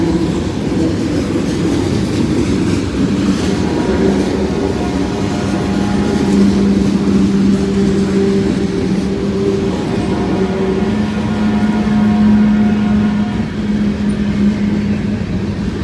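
A heavy freight train carrying big loads of scrap rolls past nearby in wet weather, a continuous rumble with rattling wagons and a faint metallic clatter, with some squealing tones rising and fading.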